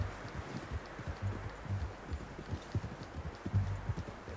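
Video game horse hooves clop along at a walking pace, a steady uneven rhythm of soft thuds on the ground, fairly quiet, with no talking.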